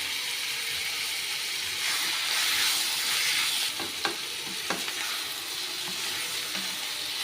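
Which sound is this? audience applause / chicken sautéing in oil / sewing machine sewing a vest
chicken sautéing in oil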